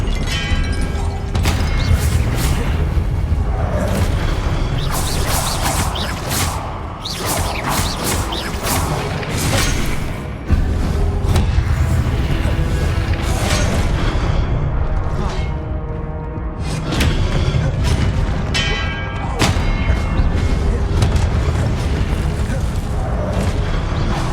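Spell blasts in Hogwarts Legacy erupt as loud, dense booms and crashes with whooshing bursts, layered under a continuous game soundtrack, with occasional shouted incantations from voices.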